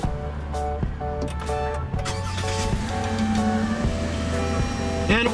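A 2016 Toyota Avalon Limited with a 3.5-liter V6 starts by push button and settles into a smooth, steady idle hum inside the car, with repeated electronic chime tones sounding over it.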